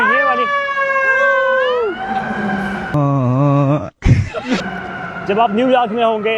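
Loud New York City emergency vehicle sirens wailing and yelping up close, several tones sweeping and shifting in pitch, with a brief break before another siren pattern starts.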